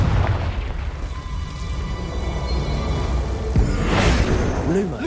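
Confringo spell explosion in Hogwarts Legacy on PS5, a loud booming burst swelling near the end over dense, constant game noise, with a voice speaking.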